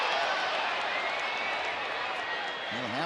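Full crowd noise roars steadily around a baseball stadium as fans stand on their feet late in a tight Angels–Rangers game, a dense, continuous wash of cheering and clapping with a play-by-play voice running underneath.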